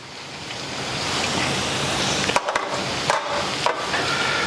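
Okra browning in hot vegetable oil gives a steady, dense sizzle and crackle that runs the whole time, with a few louder pops and spatters near the end and no talking.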